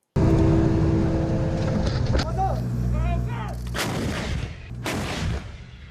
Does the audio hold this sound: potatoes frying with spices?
no